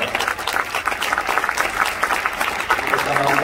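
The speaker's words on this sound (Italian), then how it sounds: "Facciamo un applauso a Carla e Vittoria." An audience at a tennis finals event in Rome applauds continuously, a dense, steady wash of many hands clapping with crowd murmur mixed in, sustained and fairly loud throughout.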